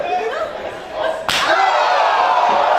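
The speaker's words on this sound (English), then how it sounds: "And they heard that chop at Overfoot Park" An open-hand wrestling chop lands on an opponent's chest with one loud, sharp smack at a live wrestling event, and crowd noise swells right after the hit.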